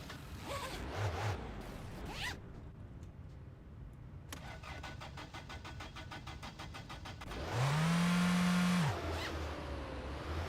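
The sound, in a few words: car engine running while driving, from video game My Winter Car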